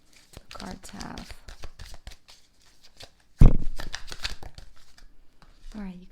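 Tarot cards are shuffled by hand in a rapid series of crisp riffling, flicking snaps, close and fairly loud. A person talks softly at intervals throughout.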